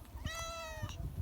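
A single soft, clear meow from a cat, short and close, over a faint low background hum.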